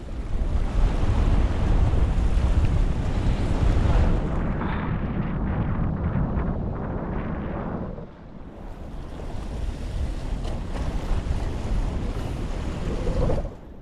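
Big ocean waves break and surge near the shore of Guntao Island in Palawan, a loud, continuous roar of churning surf with wind buffeting the microphone, easing briefly midway before swelling again.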